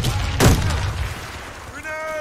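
A single grenade explosion in a first-person shooter, a loud close boom with a short falling rumble, followed by a tonal game cue, with a voice calling out over the action.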